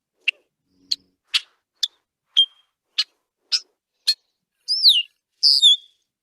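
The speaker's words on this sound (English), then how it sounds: "here are a few call notes of a male red-winged blackbird." A male red-winged blackbird gives a series of short, sharp chip notes, evenly spaced, followed by two longer slurred whistled calls, clear and close.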